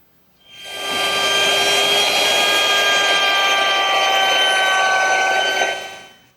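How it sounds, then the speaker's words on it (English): Router fitted with a 3/8 inch radius beading bit shaping the outside edge of a wooden mirror frame, a loud steady high whine with cutting noise that starts abruptly and stops after about five seconds. "now I've changed my bit to a 3/8 inch radius beading bit"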